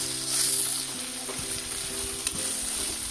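Prawns with other curry ingredients for a Godavari-style mango prawn curry sizzle steadily in a pan, a continuous bright hiss with a few spoon scrapes, set against soft background music.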